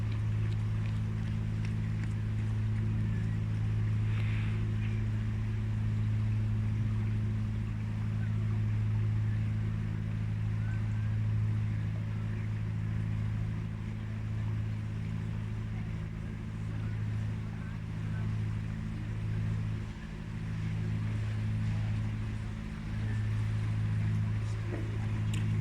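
A narrowboat's low, steady engine drone chugs continuously with a faint rhythmic knock while cruising a London canal, joined by light water and wind noise.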